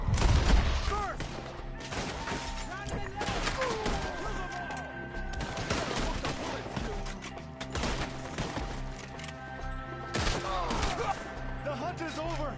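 A Red Dead Redemption 2 shootout, with enemies firing from up in the trees, brings continuous close gunfire: sharp overlapping cracks and bursts over twelve seconds, with occasional louder shots.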